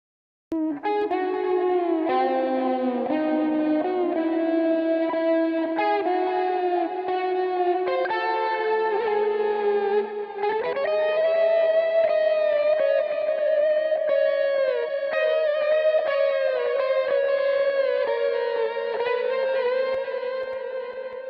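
Stereo delay from a Lexicon PSP 42 emulation plugin with slightly different left and right delay times and modulation, repeating a sustained, slightly distorted chorded instrument line into a swirling, swaying wash that plays continuously and loud without talk.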